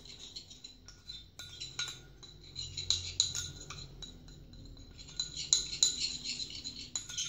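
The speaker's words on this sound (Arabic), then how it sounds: "وهاد المكونات هذه غادي نخلطوها مع بعضها حتى تتندمج" A spoon clinks repeatedly against a bowl while stirring a mixture of milk, honey and lemon juice, bright irregular taps in bursts, close and clear with no voices.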